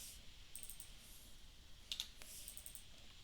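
Faint, sparse keystrokes on a computer keyboard while setting up a road cross-section in design software, a few isolated clicks spread over a quiet room background.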